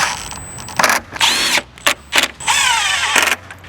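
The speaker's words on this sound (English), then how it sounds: "Let's go ahead and get the screws and mount it up." Screws being driven with a power driver to mount a Morimoto XB headlight on a Ford Bronco, several short whirring bursts close by, separated by brief pauses, with a longer rising whine in two of them.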